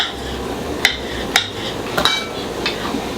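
A few sharp knife chops land on a board at irregular intervals as beetroot is cut into cubes, with faint clinks of utensils in a quiet kitchen.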